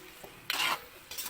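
Spoon stirring chicken curry with carrots and potatoes in a pot, two short, close scraping swishes against a low background.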